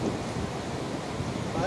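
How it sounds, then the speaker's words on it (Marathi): Waves wash in at high tide on Alibag beach, a steady broadband roar of surf mixed with wind rumble on the microphone, continuous and close, with no clear talk. "आता समुद्राला भरती चालू आहे"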